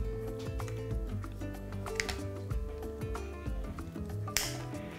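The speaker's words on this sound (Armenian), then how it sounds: "Կտրատենք մկրատով ձողիկների։" Scissors snip dried peach into sticks in a home kitchen, a series of small, sharp, close clicks and cuts at an uneven pace, fairly quiet, with no talking.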